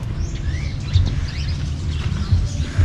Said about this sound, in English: Here's some lovebirds, little green guys chilling out.